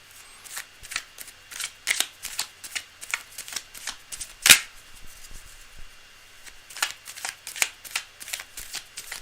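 Repeated crisp riffling bursts of tarot cards being shuffled, in quick uneven rhythm, close up with no talking.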